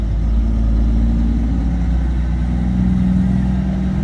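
A nearby truck idles on a mild day, its engine giving a loud, steady low rumble that holds unchanged throughout, with no voices over it.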